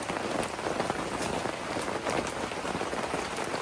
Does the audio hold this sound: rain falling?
yes